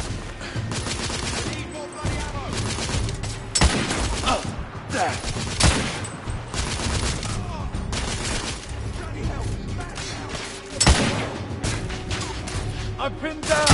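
Rifle gunfire in the video game The Order: 1886, with rapid, overlapping shots and bursts crackling nearly nonstop at close range, punctuated by a few heavier individual reports.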